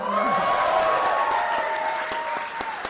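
Comedy club audience clapping after a stand-up bit, a full, steady burst of applause that stays loud and dense throughout, with faint voices mixed into the crowd.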